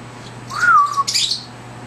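A pet bird gives a short call, a rising then falling whistled note followed by a brief harsh burst, close and clear with no talk.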